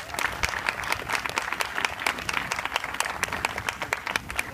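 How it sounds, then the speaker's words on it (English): An audience at a youth-inspiration event applauds steadily, dense overlapping claps filling the room at a constant, lively level with no pauses. "a round of applause, Sam Sanchez."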